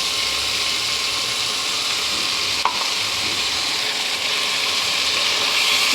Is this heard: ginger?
yes